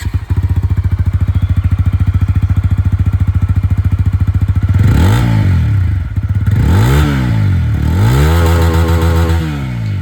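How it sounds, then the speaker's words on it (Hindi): A TVS Apache RTR 160 4V motorcycle engine idles with a steady rapid exhaust thump, then revs up sharply several times, rising and falling in pitch, loud and close. "यहाँ पर जो एग्जॉस्ट साउंड थी अपाचे की आप लोगों ने सुन ली है"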